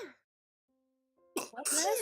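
A person sneezes once, sharp and close, as a short explosive burst after a quiet gap, followed at once by nearby voices talking.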